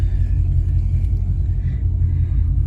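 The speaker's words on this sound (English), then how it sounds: "that sounds so good with the valves open. So much better, so much deeper than the stock muffler." A 2017 Camaro SS with the LT1 V8 and valvetronic exhaust, valves open, idling with a deep, steady rumble, close and loud with no talk.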